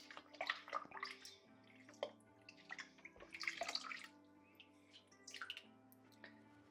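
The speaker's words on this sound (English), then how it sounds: "I'm just squeezing it in here to get as much debris out of that sponge as possible." Water trickling and dripping in irregular splashes as an aquarium filter sponge is squeezed out in tank water, close by, with a low steady hum underneath.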